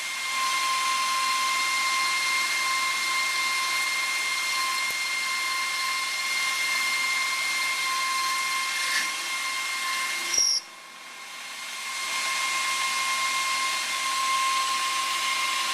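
A lathe or machining tool turns a metal part down to a set diameter, giving a steady whirring hum with a high whine that runs continuously, briefly dips and clunks near the end, then resumes.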